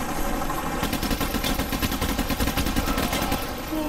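Rapid sustained automatic gunfire in the Payday The Heist video game pours onto the Bulldozer enemy, a dense, loud, continuous burst of shots lasting several seconds.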